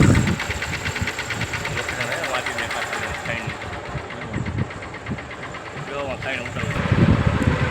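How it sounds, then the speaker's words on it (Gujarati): A tractor engine runs with a steady, knocking chug on a farm road by a mango orchard near a river, holding at a constant level with voices talking over it. "ચાલો મિત્રો આવી ગયું આપણું ટ્રેક્ટર"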